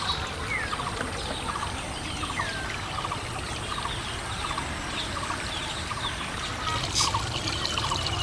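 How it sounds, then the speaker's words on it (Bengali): Village birds chirp and sing in short, repeated bright calls over a steady, hissing, trickling background, moderately distant and continuous throughout. "শুনুন গ্রামের পাখির কি সুমধুর কণ্ঠ।"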